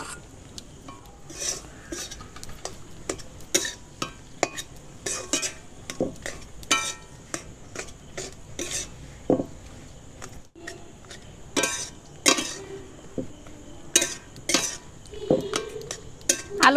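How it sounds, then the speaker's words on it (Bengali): Mashed potatoes are stirred into fried spices in a pan, giving repeated scraping and clinking strokes of a utensil against metal, with a faint sizzle underneath. "এবার আমি মেখে রাখা আলুগুলো দিয়ে দেবো।"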